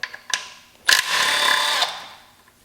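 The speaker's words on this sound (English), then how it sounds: "So just go ahead and grab your 13mm socket and take this bolt off." A 13mm socket on a ratchet backs a bolt out of the aluminum upper oil pan housing on a Chrysler 3.2/3.6 Pentastar engine, with a few quick clicks and then a sustained close buzzing rasp of about one second.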